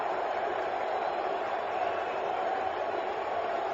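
Mets fans at a cold NLCS playoff game in the baseball stadium, a broad, distant roar of crowd noise rising and holding steady throughout, heard as a continuous wash.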